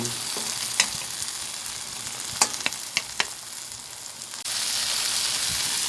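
Egg fries in a pan with gourd and pork sausage, a steady close sizzle with a few sharp utensil clicks, then the frying swells louder near the end; no talk.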